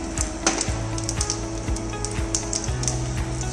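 Curry leaves and hing hitting hot oil in a practical kitchen, giving a steady close sizzle with a repeating low thudding pulse underneath, no talk.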